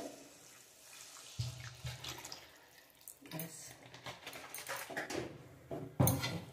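Water splashes and pours into a pan of spiced jackfruit braising on the stove, a wet sizzling rush that swells in bursts, loudest near the end.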